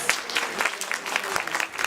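Scattered applause rises from an audience at a Hindu temple class performance event, with individual claps distinct at moderate volume and no talk over it.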